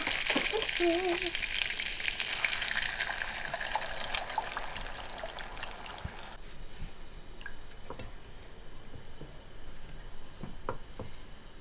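Hot oil sizzles and bubbles steadily in a pan, loud at first then softer, with occasional clinks and pops from stirring.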